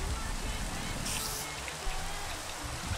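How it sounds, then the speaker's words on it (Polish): Rain falls steadily in Minecraft, a continuous even hiss of drops spattering on surfaces that stays constant throughout, with a brief brighter burst partway through. "czemu znowu pada?"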